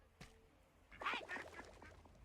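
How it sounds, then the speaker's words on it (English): A duck quacks in a fantasy adventure video game, a short series of loud, nasal quacks starting about a second in, preceded by a brief faint sound over a low background hum. "is that a duck?"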